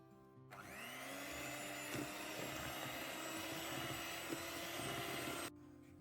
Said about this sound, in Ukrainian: І знову все перемішую міксером.